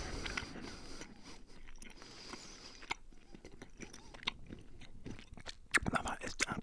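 Haribo strawberry gummy sweets are chewed close to the microphone, soft sticky squelches and occasional crunchy bites in an uneven rhythm, with quiet whispered talk in between.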